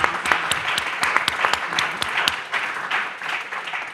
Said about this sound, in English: Can I ask everyone to give our panel a huge round of applause?